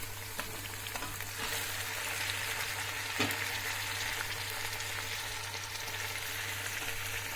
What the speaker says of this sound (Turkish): 2 dakika böyle bir kavuracağız